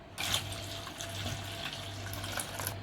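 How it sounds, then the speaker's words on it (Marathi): Cold water is poured into a spicy coriander and mint chutney with lemon slices, a steady splashing pour running for about three seconds with no talk. "थंड पाणी ओतूया"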